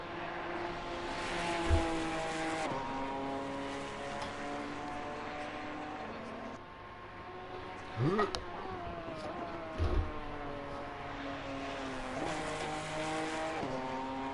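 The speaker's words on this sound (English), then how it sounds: "The sound of that Ferrari on the left side of my headphones there." Ferrari race car in a sim racing game at Laguna Seca, its engine a steady layered high-pitched whine that shifts pitch through gear changes, with a brief tire squeal and a few low thumps mid-lap.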